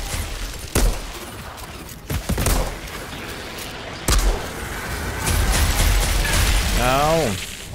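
A few sharp video-game gunshots crack out at irregular intervals over a busy game background, with a short voice-like sound near the end, in Outriders Worldslayer.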